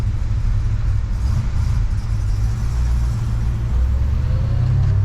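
A 1966 Chevrolet Biscayne with the L72 engine idles loud and close, a deep steady rumble that holds evenly throughout with no talk over it.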